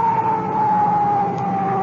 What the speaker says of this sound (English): Cut in our siren.